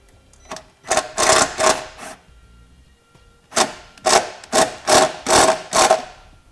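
A power drill drives a self-tapping screw into the body of a 2012 vehicle to start a hole, two bursts of whirring and grinding pulses, the second longer with about six rhythmic surges, close and loud.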